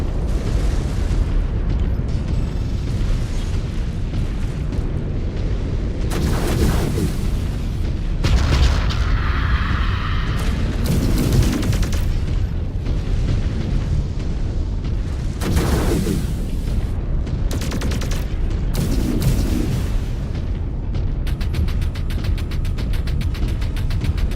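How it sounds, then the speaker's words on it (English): Mech machine guns and explosions in the video game Mechwarrior 5: Clans, a dense, loud, continuous barrage of booming blasts and rattling fire with repeated heavy bursts throughout. "Finish him with machine guns in true clan fashion"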